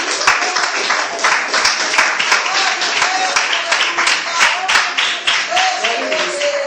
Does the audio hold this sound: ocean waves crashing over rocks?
no